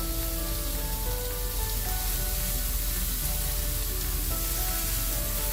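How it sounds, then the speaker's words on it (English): Bacon strips sizzling on a hot griddle, a dense, even crackle like steady rain that runs unbroken and loud close up, with no voice over it. "We're going to start with the bacon on the griddle."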